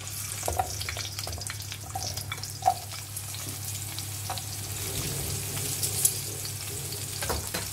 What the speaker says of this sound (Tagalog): Stir fry lang natin.